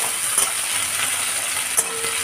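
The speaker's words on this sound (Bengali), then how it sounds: "পেঁয়াজটা ভালো করে ভেজে নিই, লাল লাল করে ভেজে নিই" Onion, tomato, chili powder and turmeric fry in a pan with a steady loud sizzle and a couple of brief stirring clinks, no voices.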